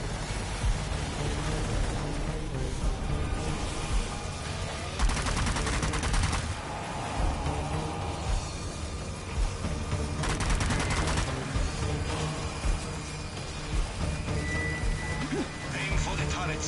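Machine gun fire in the video game Zombie Army 4, long rapid bursts of gunshots with heavy booms throughout, loud and sustained under game voices and talk.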